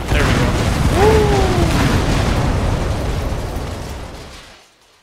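A separator tank blows up in the video game Metal Gear Solid V: a loud, close boom with a rumbling body and a falling whistle-like tone, decaying over several seconds before cutting to silence.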